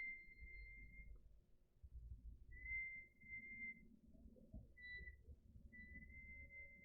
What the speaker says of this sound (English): We're going to ignore that whistling outside.